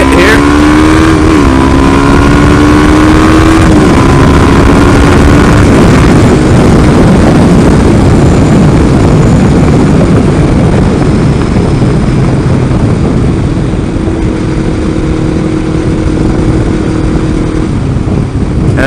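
Kawasaki Ninja 500R motorcycle engine droning loudly and close while riding, its pitch rising and stepping through gears early on, then holding a steady, rough roar with strong wind noise throughout.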